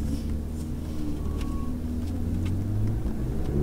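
A Ferrari 488 GTB pulls away gently in first gear on a racetrack. Its engine makes a steady low rumble heard from inside the cabin, moderately loud with no talk.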